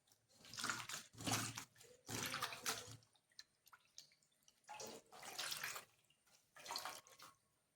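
Water runs from a tap in bursts while a face pack is washed off, several splashing gushes a second or two long with quiet pauses and drips between, close but soft.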